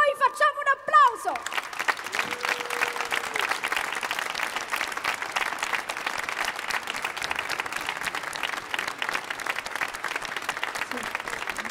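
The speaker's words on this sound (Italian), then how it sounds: "a questo nostro pubblico noi facciamo un applauso!" An audience applauds after a Dies Natalis performance of Il sogno di Giuseppe. A voice is heard briefly, then sustained, dense clapping carries on evenly and loudly for the rest of the clip.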